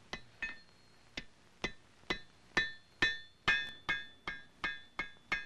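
A hammer forging iron at an anvil in a colonial gunsmith's shop, about a dozen sharp ringing blows at a steady rhythm, each with a bright metallic ring that decays quickly, close and loud with no talking.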